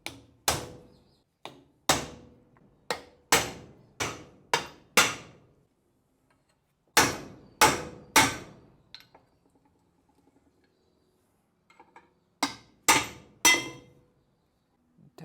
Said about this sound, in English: We just got a center punch sort of thing. Just going to work our way along tapping that.